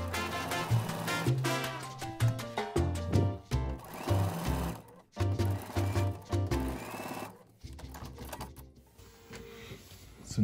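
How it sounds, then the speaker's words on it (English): A sewing machine stitches down quilt binding in quick rhythmic mechanical bursts, close and clear, pausing briefly between runs before a final stretch of softer whirring. "we'll just finish sewing our binding down"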